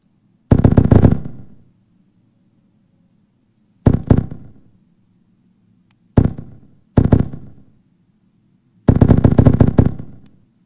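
Machine gun fire in the video game ArmA 3, loud close bursts of rapid shots in five separate volleys with short gaps of low hum between them, no voices.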